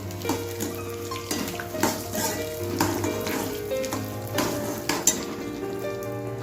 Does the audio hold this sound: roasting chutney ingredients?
yes